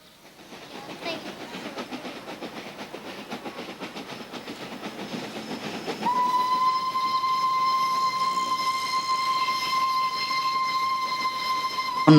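An industrial steam locomotive at an Indonesian mill chuffs and rattles along with clanking wagons, then a loud sustained whistle blows over the rolling noise until the end.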